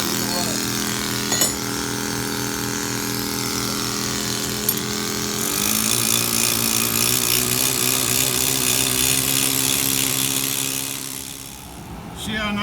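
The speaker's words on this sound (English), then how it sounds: "Go in with your ripper. Or a bush chisel or a 2-blade." Ripper or bush chisel worked against a granite block while squaring it, a steady dense mechanical rattle of pneumatic tool on stone that runs continuously, with a brief surge mid-clip and easing near the end.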